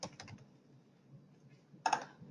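A few quick, quiet keystrokes on a computer keyboard while entering a search in auditing software: scattered clicks at the start, a lull, then a brief burst of taps near the end.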